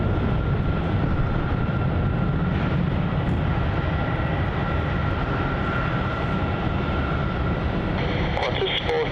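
A passenger jet roars down runway 27 at Melbourne Airport on its takeoff roll, a loud, steady engine rumble filling the whole stretch without a break, with faint radio chatter in the background.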